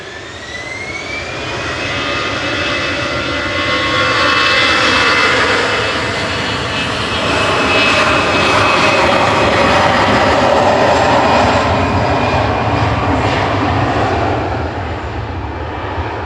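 A departing airliner at Manchester Airport climbing away into cloud: a loud jet roar with a rising engine whine that swells, dips slightly and swells again as it recedes, with no voices.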